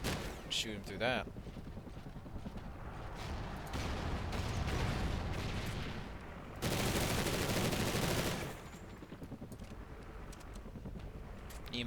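Bursts of gunfire and explosions in Call of Duty Ghosts, with sustained loud rattling volleys and blasts in the middle stretch, some voices over the top.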